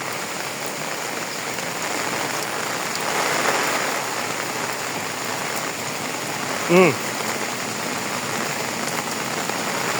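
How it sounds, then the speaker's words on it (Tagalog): Steady rain pours down in a dense, even hiss, with a brief voice cutting through midway. "Ilang araw na nag-uulan dito."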